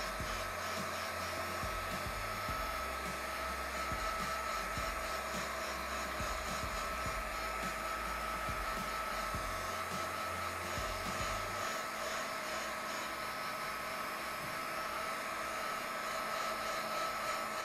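A hair dryer blows steadily and loudly throughout, drying layers of paper glued onto a used CD being made into a Christmas ornament, its continuous whoosh unbroken by any voice.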